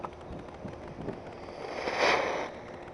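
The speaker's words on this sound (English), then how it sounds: "we are setting off some fireworks, and here's the first one up" A Fourth of July firework whooshes up and bursts with a bright crackling hiss, fairly loud against a noisy outdoor background.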